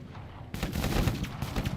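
Video game gunfire from a strategy battle erupts abruptly after a quiet moment into a dense, continuous rattle of overlapping shots, loud and close with no talk.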